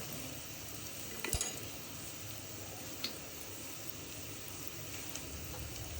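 Chopped onion frying in hot oil for a village-style fish head and dal muri ghonto, a low, steady hiss with a couple of brief clinks of a utensil, fairly quiet and unaccompanied by talk.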